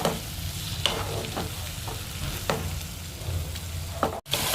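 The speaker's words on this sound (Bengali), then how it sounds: "মশলাটাকে মা ভালোভাবে এবার কষিয়ে নেবে যাতে সব কিছুর কাঁচা গন্ধটা চলে যায়" Ginger and garlic paste frying with softened onion and tomato in a pan for a Bengali rohu fish curry, a steady sizzle with several distinct stirring scrapes of a spatula, close and alone.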